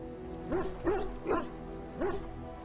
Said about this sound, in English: That dog! Mangy mongrel.